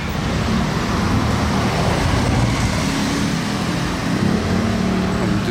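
Mercedes SLR Stirling Moss with a V8 and four exhaust outlets rumbles steadily among traffic on a Monaco street, a constant loud roadside engine note with crowd voices in the background.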